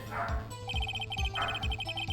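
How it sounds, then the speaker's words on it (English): A dog in the Ace Attorney courtroom game barks in a quick series of short, yippy bow-wows over a steady background tone, with no talking. "why is the dog barking?"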